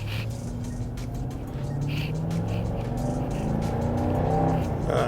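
A car engine drones steadily and rises in pitch as it gains speed, heard from inside the cabin with some faint clicks.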